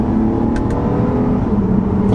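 A 2012 Acura TL SH-AWD with a 6-speed automatic revs on an upshift, its engine giving a loud, steady, close-up drone that lasts about two seconds.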